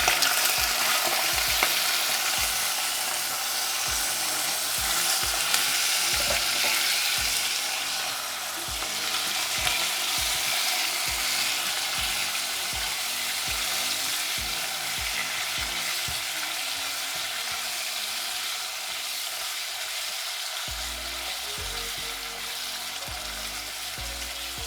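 Liver frying in hot liquid oil in a heated kazan pot, a dense, continuous sizzle and bubbling that lasts throughout, with faint soft knocks from stirring, close up and with no voices.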